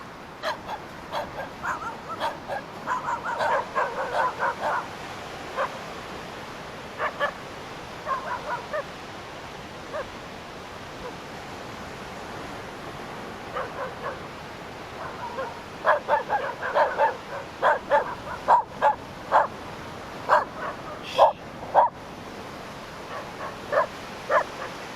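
A dog yips and barks in repeated short bursts near a marsh at a beach resort in San Fernando, San Juan. The barking is moderately close, with quieter whimpering between clusters and pauses of near silence.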